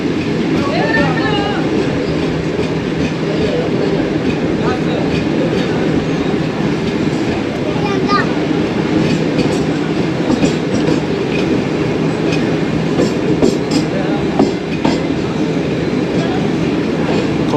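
Tezgam passenger train running on rails near Gujranwala on the Rawalpindi to Lahore route, a steady loud rumble with rhythmic clickety-clack of wheels heard from inside a carriage, continuous throughout.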